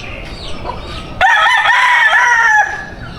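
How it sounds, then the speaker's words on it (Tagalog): Chickens cluck softly in the background before a rooster suddenly lets out a loud, close crow that lasts over a second and then trails off. "Dami nilang manok oh."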